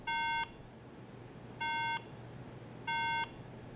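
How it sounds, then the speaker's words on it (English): An iMac with unseated RAM gives three identical electronic startup beeps, evenly spaced about one and a half seconds apart, each a short steady tone over faint background hiss. "If your RAM is not seated correctly, it will beep like this at startup."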